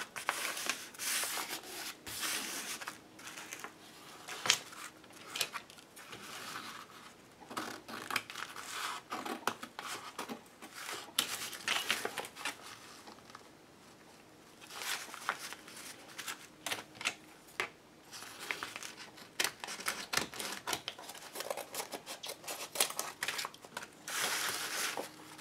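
Scissors cutting through a Gelli-plate-printed fabric background into four pieces: intermittent crisp snips and rustling fabric, close and fairly loud, with short pauses between bursts of cutting.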